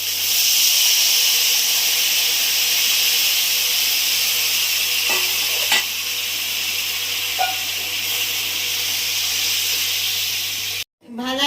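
Water poured into a hot pan for a thin hilsa fish curry with eggplant and turmeric sets off a loud, steady hiss and sizzle that fills the scene and cuts off abruptly near the end.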